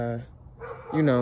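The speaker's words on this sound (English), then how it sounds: "sorry for the dog noise" A dog barks twice, close and fairly loud, with a short gap between the two yelping barks, at a house exterior in Grove City.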